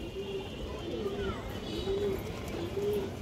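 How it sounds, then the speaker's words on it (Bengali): A Baga female pigeon coos in soft, repeated low calls close by, over a steady background hum with a voice murmuring. "একটা বাঘা মাদি কবুতর, হাই কোয়ালিটির মাশাআল্লাহ, অনেক সুন্দর একটা কবুতর"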